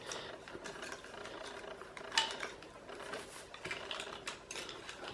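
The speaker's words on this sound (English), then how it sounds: "then we push the net down into those holes" A plastic goal net is pushed into the holes of a vintage Parker Super Striker football board game, making quiet, close, irregular plastic clicks and ratcheting snaps, with one sharper click partway through.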